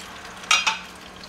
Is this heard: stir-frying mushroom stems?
yes